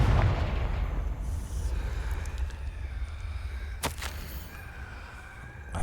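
A Confringo blasting spell bursts in Hogwarts Legacy with a deep booming blast that rolls off into a rumbling tail, followed by a sharp crack near the end over low game ambience.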